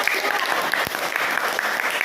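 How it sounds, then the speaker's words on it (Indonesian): Students in a classroom applaud a presenting group, a dense, steady wash of many hands clapping together throughout, moderately loud and fairly close, with faint voices mixed in. "beri tepuk tangan untuk kelompok 2."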